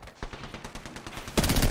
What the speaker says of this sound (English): Shots down here